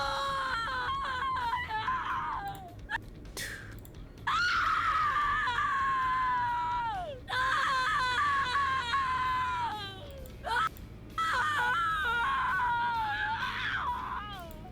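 Several long, piercing screams from a Dead by Daylight survivor character come one after another with short gaps between them, each loud and close, rising and then dropping off sharply.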